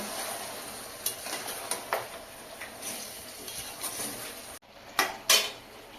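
Mutton kacchi biryani ingredients stirred in a pot, with a soft sizzle and intermittent clinks and scrapes of a spoon against metal, close and fairly quiet.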